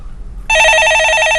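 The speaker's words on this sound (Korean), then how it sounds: "예, 전화 받아보겠습니다." A telephone rings on a live Korean stock-market call-in broadcast, a steady electronic trill that starts suddenly and continues loud and close for about a second.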